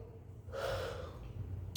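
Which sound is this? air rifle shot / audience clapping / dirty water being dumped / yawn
yawn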